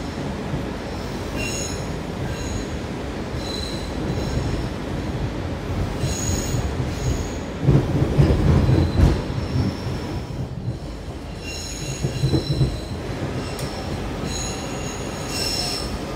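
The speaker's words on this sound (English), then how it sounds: "Train moving forward," A Washington DC Metro Blue Line train rolls between Braddock Road and Franconia-Springfield with a steady rumble, high wheel squeals rising and falling over the noise, and louder surges partway through.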